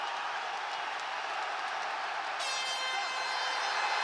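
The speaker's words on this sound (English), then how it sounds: "And then the crowd just goes nuts." A packed UFC arena crowd roars steadily through a Volkanovski vs. Makhachev fight, a dense, loud wall of cheering that swells slightly, with a high whistling tone rising out of the din partway through.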